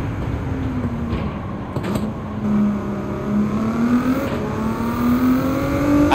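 Race car engine in Gran Turismo 7 revving through the gears, its pitch climbing, dropping at an upshift, then climbing again, loud and steady with tire and wind noise.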